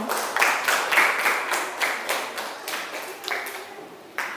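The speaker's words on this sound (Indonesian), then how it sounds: "coba kasih aplaus untuk Selin." Small group in a training class claps for a participant named Selin, a few hands beating in a steady rhythm of distinct, fairly soft claps that carry on for several seconds before stopping.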